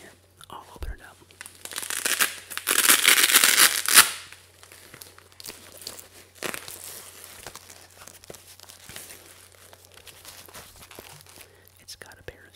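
A medical pouch holding a tourniquet, worn under a plate carrier, is torn open with a burst of crinkling, ripping noise lasting about two seconds, followed by softer handling rustles and light taps close by.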